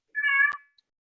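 A cat gives a single short, clear meow at the close of a paramotor podcast livestream, close up and alone in otherwise silent surroundings.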